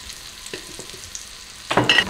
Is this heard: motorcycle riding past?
no